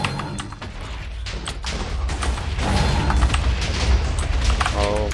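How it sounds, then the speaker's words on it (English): Explosions in Minecraft's Dwarfs vs Zombies game mode: a dense run of deep booms and rumbling blasts that swells louder toward the end, with clattering game noise around them. "Okay, just a few explosions."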